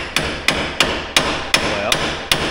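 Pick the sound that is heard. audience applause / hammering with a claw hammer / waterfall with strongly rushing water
hammering with a claw hammer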